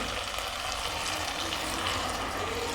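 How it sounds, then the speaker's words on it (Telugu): Water pours steadily into a hot pan of brinjal and dried fish curry, a continuous rushing hiss mixed with faint sizzling, with no voices. "కొన్ని వాటర్ అయితే పోద్దాం"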